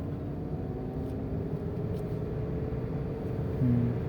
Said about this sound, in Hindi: अब देखो ओवर रेस हो रही ना गाड़ी,